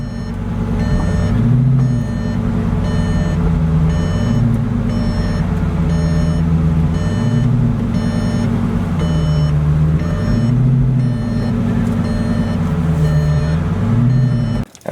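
A vehicle backs up with a steady, repeating reversing beep sounding over a loud engine hum for the whole stretch, close by, with no talk.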